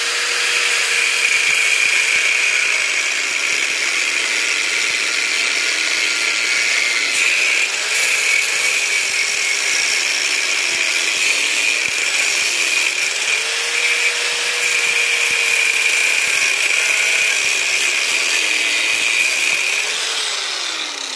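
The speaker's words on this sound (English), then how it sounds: "I'm going to take my grinder with a cutoff wheel." An angle grinder fitted with a cutoff wheel slices through a metal refrigerator part, a loud, sustained high-pitched whine that rises and dips slightly as the cut progresses, with no talking.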